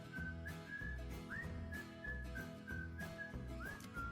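Melodic whistling carries a tune over a full band in a pop song, sustained notes with occasional upward slides, steady and prominent above the beat.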